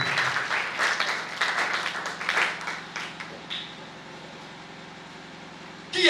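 A church congregation claps in applause to acclaim the Lord, a loud patter of hands that swells and fades over a few seconds before dying away into quiet room tone.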